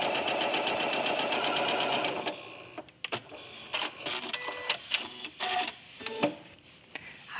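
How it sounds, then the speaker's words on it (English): A sewing machine stitches fussy-cut quilt binding at a quarter-inch seam, running in a steady dense rhythmic whir at first, then breaking into short stop-start bursts and clicks, close and fairly loud. "We're going to lay this down and sew it with 1/4 inch seam allowance."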